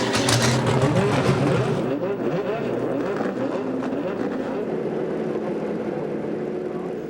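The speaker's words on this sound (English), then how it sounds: "Drivers, start your engines." American Le Mans Series race car engines at Canadian Tire Motorsport Park in 2000, a loud roar of several engines revving together that settles into a steady drone, with a voice speaking over it.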